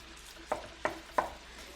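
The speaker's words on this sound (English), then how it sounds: "So you're gonna stir this occasionally" Filipino spaghetti sauce stirred in a pan, three distinct scraping strokes evenly spaced over a soft background hiss, close and fairly quiet.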